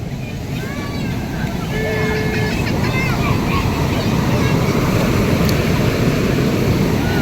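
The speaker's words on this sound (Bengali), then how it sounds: "বাবারে কত বড় ঢেউটা আসছে রে।" Ocean surf breaks steadily on Puri beach, a loud, continuous wash of waves that swells after the first couple of seconds, with wind buffeting the microphone and faint voices in the background.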